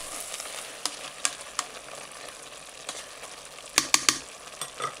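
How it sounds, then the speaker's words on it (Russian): Chopped bell pepper stirred into a vegetable stew in a multicooker: a steady soft sizzle with scattered clicks and scrapes of the spoon, a small burst of clattering near the end, close and quiet. "Перец добавили, еще раз перемешали."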